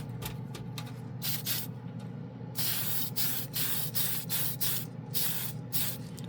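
A clear coat spray can is fired in short hissing bursts, several quick puffs and then longer sprays with brief gaps between them, close and fairly loud in a workshop booth.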